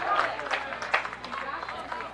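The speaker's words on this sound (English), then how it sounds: "And at every foul cut, the crowd gets louder." A baseball crowd at a Class AAA region championship game cheers and claps after a foul ball, a loud, steady roar of many voices with scattered applause filling the whole moment.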